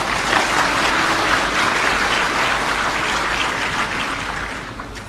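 A large audience applauds steadily at a formal opening ceremony in Cambodia, a dense, loud wash of clapping that holds for several seconds and then begins to taper off at the end.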